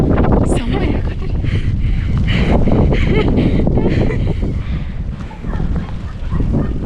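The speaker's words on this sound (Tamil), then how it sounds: "காற்று பாருங்க எப்படி அடிக்குது, செம்மையான காற்று." Strong wind gusts through a winter snowstorm, a loud, continuous buffeting roar with rumbling surges that never let up.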